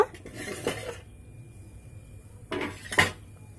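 The lid of a cooking pot comes off with a few close metallic clanks and clinks, separated by quiet moments.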